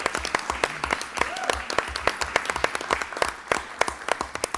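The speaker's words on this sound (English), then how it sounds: "you can clap." An audience claps steadily at a school district board meeting during a public budget hearing. The sharp, overlapping claps sound fairly close and continue throughout, with a faint murmur of voices underneath.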